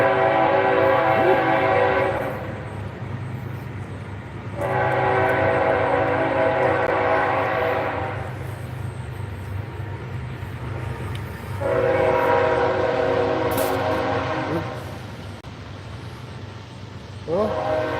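Train horn blasts sound in long repeated bursts, loud and steady over a continuous low rumble of a passing train in an outdoor garden setting.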